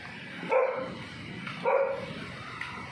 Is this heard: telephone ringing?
no